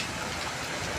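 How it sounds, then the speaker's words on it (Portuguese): Heavy rain pouring down at night in the city of Arapongas, a dense, steady hiss of broadband noise filling the whole second without a break. "A chuva chegou"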